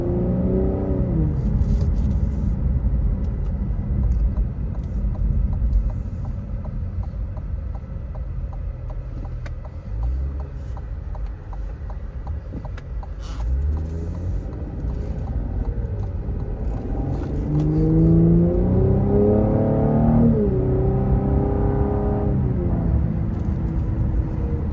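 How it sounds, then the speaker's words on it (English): 2023 Cadillac CT5-V engine drones and rumbles steadily from inside the cabin, rising in pitch as it accelerates with brief dips at shifts, loud and continuous with no talking. "So this car, it sounds pretty good, shifts pretty quickly and everything."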